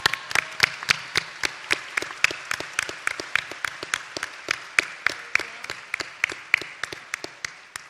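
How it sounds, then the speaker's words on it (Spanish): Slow, evenly spaced claps ring out one after another at a political workshop in Villahermosa, Tabasco, a sparse rhythmic round of applause from a small group. "Un aplauso, por favor, para ellas."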